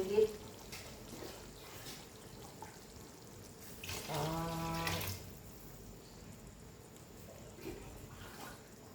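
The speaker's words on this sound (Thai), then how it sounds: "เติมน้ำได้เลยค่ะอันนี้ห้าร้อยมิล" About 500 ml of water is poured into a pot while cooking a pork panang curry, a brief splashing pour of about a second amid quiet kitchen background noise.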